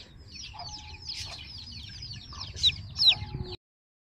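Chicks and hens clucking and cheeping during Lasota poultry vaccination, a steady chatter of small calls with two louder squawks near the end, no talking.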